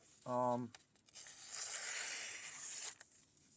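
A brief voice, then a soft, drawn-out tearing rasp as a knife slices through damp, fibrous material with a paper-towel-like resistance for a couple of seconds, close by.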